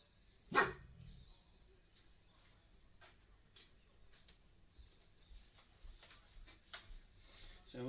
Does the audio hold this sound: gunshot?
no